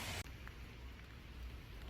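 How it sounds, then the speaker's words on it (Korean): Steady rain falls on a rainy day near an outdoor pavilion, a continuous soft hiss of drops with a low rumble underneath and no voices. "비가 오는 어느 날"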